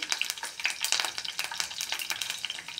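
Garlic, curry leaves and cumin sizzle and crackle steadily in hot oil in a pan, a close, continuous frying hiss with light stirring scrapes and no talking.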